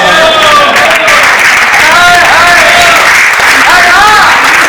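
An audience at a Holi kavi sammelan poetry gathering claps loudly and continuously in a dense, sustained wave of applause, with some voices and whoops rising above it.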